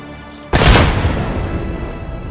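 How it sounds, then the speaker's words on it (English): A grenade goes off in the shooter game Escape From Tarkov. The blast is sudden and loud, and a long rumbling decay follows it. "Throwing a grenade."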